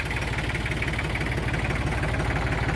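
A tractor engine idles steadily, loud and close, with an even low throbbing rumble and no talk over it.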